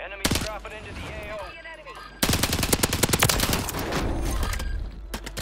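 Rapid bursts of automatic gunfire in a first-person shooter match crackle close and loud, with a short pause before a dense barrage of repeated shots, as players talk over the action.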